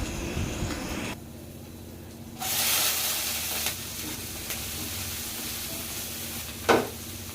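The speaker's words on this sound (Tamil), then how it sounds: "வெங்காயம் இந்த அளவுக்கு வதங்கினா போதும் ரொம்ப பொரியணும்னு அவசியம் இல்லை" Onions and green chili sautéing in a pan for samba wheat rava upma, a steady close sizzle with a surge of hiss partway through and a brief stir near the end.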